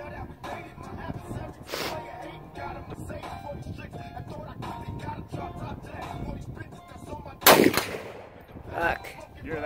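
A loud sniper rifle shot cracks sharply once near the end of outdoor shooting practice, preceded by a fainter report and followed by a distant impact, with someone talking quietly around it.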